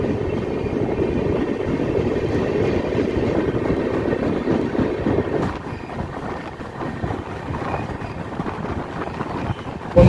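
AC express train from Kolkata to New Jalpaiguri rolling along, a steady low rumble and rattle heard from inside with some wind buffeting, continuous and fairly loud, no talk.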